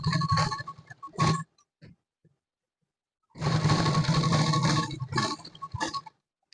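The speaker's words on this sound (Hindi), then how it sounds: "अब यहाँ से आपको किनारी पर सिलाई लगानी है" A sewing machine stitches along the edge of a kurta placket, running in a short burst, then a longer steady whirring hum with rapid needle rhythm, close up, separated by near silence.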